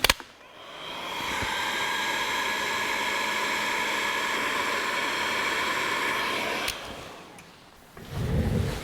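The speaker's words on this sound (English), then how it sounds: "And power up our heat gun." A heat gun blows a steady, hissing rush of air while shrinking heat-shrink tubing over a soldered wire on a 1949 Chevrolet gasser, starting up, running evenly for several seconds, then cutting off before a brief clatter.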